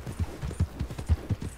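Horse hooves clip-clop in the video game Red Dead, a quick, steady run of close, muffled hoofbeats at a trot.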